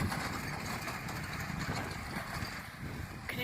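EZGO golf buggy engine while driving outdoors: a steady, moderately loud motor hum blended with rushing broadband noise, continuous throughout and with no speech.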